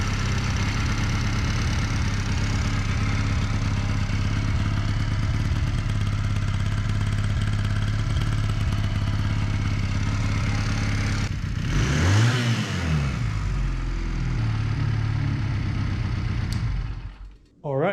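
A 1981 Honda CM200T motorcycle engine idles steadily while warming up after a choke start, a close, even low thrum that holds for a long stretch, briefly rising and wavering near the end before cutting off.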